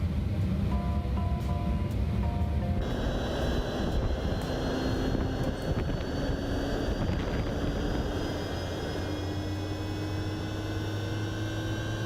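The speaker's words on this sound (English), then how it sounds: "There we are, engine number 3 coming to life." A simulated MD-11F cargo jet's number 3 engine spools up in X-Plane 12, a steady broadband roar with rising whine tones building over a constant cockpit drone, loud and continuous without speech.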